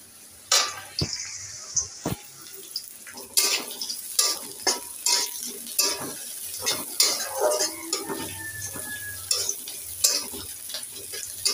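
Onions fry in a hot pan with a continuous sizzle, punctuated by a dozen or so sharp metallic clinks and scrapes of a spatula stirring against the pan, close and clear with no voices.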